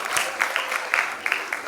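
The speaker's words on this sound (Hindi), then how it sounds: "सभी लोग एक बार तालियों से स्वागत करें" An audience claps to welcome a group of children performing Kathak classical dance at a cultural programme, a short burst of scattered clapping with voices mixed in.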